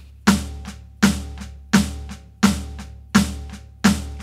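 Six evenly spaced strokes on a Roland TD-07 electronic drum kit, each a sharp close hit with a short decay, played as alternating down and up strokes at a steady pace with no talking.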